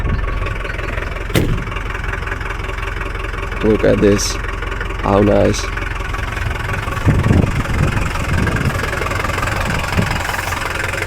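A 1979 Mercedes-Benz W123 engine idles with a steady low rumble close by, a sharp knock at the start, and brief talk breaking in over it.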